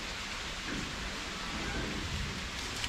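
Steady rain pours down continuously, a dense hiss of drops striking surfaces nearby, holding an even loudness from start to finish with no voices.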